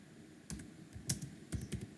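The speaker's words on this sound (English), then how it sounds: "Suppose I am typing" Quiet, close-up keystrokes tapping on a computer keyboard in an uneven rhythm, a handful of soft clicks over faint background hum.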